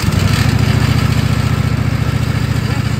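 Woodmizer sawmill with its blade running, cutting a log crosswise into thin round cookies; a steady, loud, close engine drone with a low pulsing rumble holds throughout.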